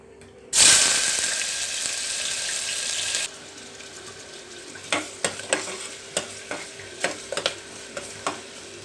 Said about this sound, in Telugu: ఇప్పుడు ఇందులో ఆనియన్ వేసుకుందాం.